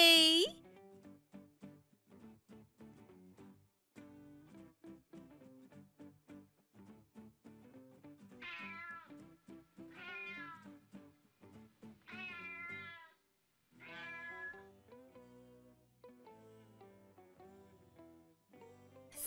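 A sick cartoon kitten meows in a series of short, plaintive cries spread across the stretch, with quiet gaps between them and a child-like voice talking at times.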